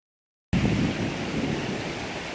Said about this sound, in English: So this right here is the mature stage of a thunderstorm. You can see there's a lot of rain coming down.